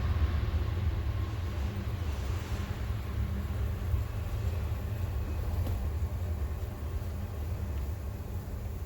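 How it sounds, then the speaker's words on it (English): A train passes in the distance, producing a steady low rumble with a faint broadband wash that holds evenly throughout, with no voices over it. "There's a train going by if you can hear it."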